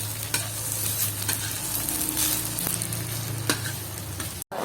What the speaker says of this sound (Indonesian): Setelah itu kita tumis lagi sampai nanti harum.